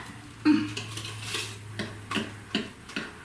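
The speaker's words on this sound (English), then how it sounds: "So we're gonna mix this for about 2 minutes until all of the lumps are mostly gone." Chocolate brownie bundt cake batter being mixed in a bowl, with scattered scraping and clinking strokes at an uneven rhythm, close and moderately quiet, with no talking.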